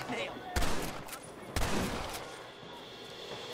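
Two sharp gunshots from a Red Dead Redemption shootout, spaced about a second apart, each followed by a decaying echo over a steady background of ambient game noise.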